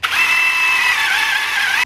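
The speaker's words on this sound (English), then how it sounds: "So I just gotta drill a hole next to this one and one right underneath it to fit." Power drill boring a hole for fitting an aftermarket steering wheel on a Mazda Miata, one steady high-pitched whine held for about two seconds at close range, starting and stopping abruptly.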